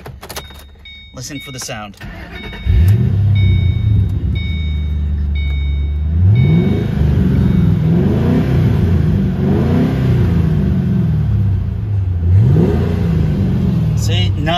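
A 2006 Ford Mustang GT convertible with manual transmission cranks and fires up loudly after some early talk, then settles into a steady rumbling idle broken by a few sharp revs.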